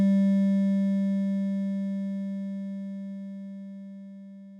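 A single sustained note on a Korg Argon8 synthesizer set to a snappy long envelope: a pure, steady tone with clear overtones that fades smoothly and slowly over several seconds, heard alone.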